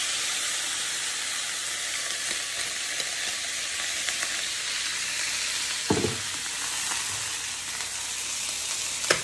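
Food sizzling in a pan on a stove top, a continuous hissing fry at moderate level with one brief thump of handling partway through.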